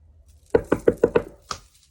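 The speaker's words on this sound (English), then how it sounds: "And I hear a knock at the door." Five quick knocks on a door in an apartment, evenly spaced, then a single later knock, crisp and close, with silence around them.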